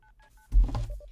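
Three short keypad tones beep in quick succession as a phone number is dialed, followed by a brief clatter and then a few more quick dialing tones.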